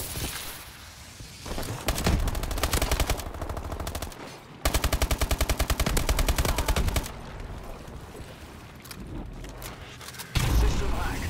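Video game gunfire bursts out in rapid machine-gun volleys, loud and dense, with pauses between strings of shots and a heavier boom near the end.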